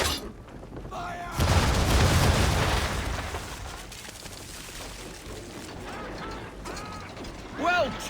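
Ship cannons fire a broadside in Assassin's Creed 3: a sudden heavy roaring blast that rumbles and decays over a few seconds, with creaking timber and ratcheting mechanisms around it and a later burst near the end.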